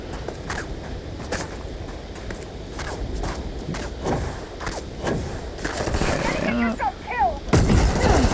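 Big Bang weapon gunfire from the video game Starfield comes as a run of sharp, booming shots, scattered at first and then faster and louder toward the end, over game ambience.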